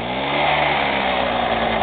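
A warmed-up Piaggio Ciao PX moped engine idles steadily in freezing weather, a close, loud, continuous two-stroke drone with layered harmonics and no voices.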